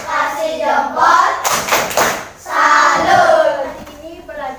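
A class of children doing a salute clap routine, with rhythmic hand clapping and thumps in bursts alongside chanting children's voices.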